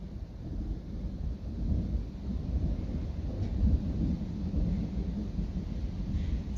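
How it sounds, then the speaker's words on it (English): Loud, continuous rumbling thunder from a nearby storm rolls on for several seconds with no pause, its deep low roar swelling and easing slightly throughout. "So I can really hear the thunder now, you know? It's really loud."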